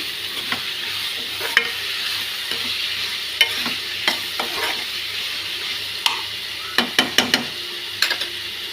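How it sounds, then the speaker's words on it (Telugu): Eggplant fries with a green chili masala under a constant loud sizzle, while a spatula stirs and scrapes against the pan in irregular clicks, close up and with no voices. "ఇది బాగా మగ్గే వరకు ఫ్రై చేసుకున్నామండి"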